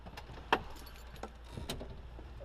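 Truck keys jangle briefly with a sharp metallic clink and a few lighter rattles, faint and close, with no speech.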